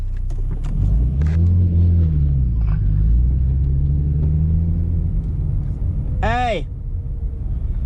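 A tuned 3.7 car launches hard off the line with a deep, loud rumble that climbs in pitch for several seconds and then fades, followed by a brief sharp tire chirp. Voices talk over it.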